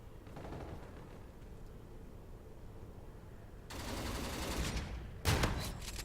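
An automatic turret fires in Call of Duty, with sustained distant rapid gunfire that grows louder partway through and ends in a sharp close burst.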